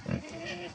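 A short, low pig grunt close by, one brief snort followed by a fainter rumble.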